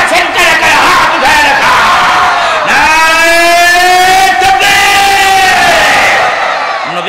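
A large crowd at a Bangla waz mahfil roars back in unison to a takbir call, a loud sustained chorus of voices rising and swelling for several seconds, close and overwhelming.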